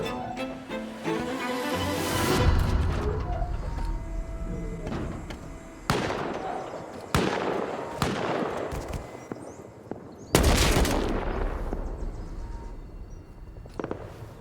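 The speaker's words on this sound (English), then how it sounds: "Oh my god, I hear shooting. They're still dealing with my turrets." Turret gunfire inside a video game military bunker in the desert: a dense burst of shots early on, then a string of sharp, loud separate bangs with ringing decay, heard alone without talk.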